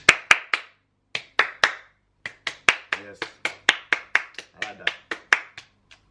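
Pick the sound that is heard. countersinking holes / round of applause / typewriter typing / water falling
round of applause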